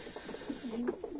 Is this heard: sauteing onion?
no